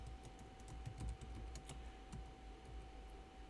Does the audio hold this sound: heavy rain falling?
no